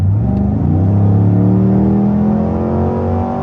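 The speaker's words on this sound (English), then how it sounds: "let's punch it in the Escalade" A 2023 Cadillac Escalade ESV Sport Platinum accelerating hard, its engine note climbing in a loud, steady, rising drone from the cabin, heard alone without talk.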